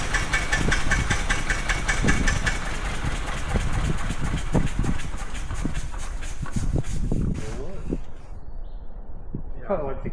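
A 1903 Cadillac engine just started after sitting for eight years runs with a steady, rapid chuffing knock, loud and close, then cuts off near the end, with some talking underneath.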